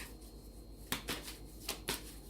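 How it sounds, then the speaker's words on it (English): Tarot cards are riffled and shuffled close by in a quiet room, with a few sharp bursts of card flutter separated by near silence. "as I shuffle the cards"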